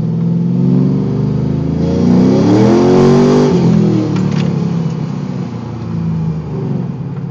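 An LS1-powered Firebird accelerates hard through first gear and into second, its engine note rising steadily, loud and close, then dipping at the shift before pulling again, with no talking.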